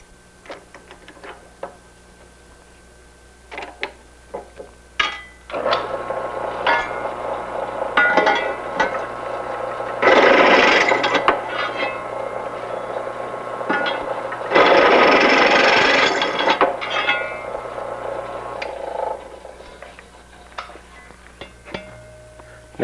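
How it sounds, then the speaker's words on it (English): Drill boring a 5/16 inch hole in a lugged bicycle fork blade, with intermittent bursts of grinding that build and stop, surrounded by small clinks and ticks of metal handling. "and we'll drill our final hole"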